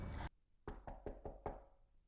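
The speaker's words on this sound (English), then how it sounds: "there was a knock on the door" A run of five evenly spaced knocks raps on a wooden door, crisp and fairly close, following a brief burst of louder noise at the start.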